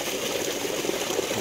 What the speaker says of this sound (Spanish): Fíjate el chorrito, mira.